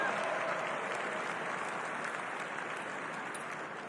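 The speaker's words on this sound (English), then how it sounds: "Round of applause." An audience at the National Republican Committee dinner breaks into steady, sustained applause, a dense even wash of clapping that fades slightly toward the end.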